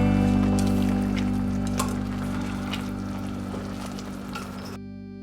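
Budae jjigae, Korean army camp stew with ramen noodles, simmering in a pot, giving a soft, steady bubbling crackle over a constant low hum, with no talking.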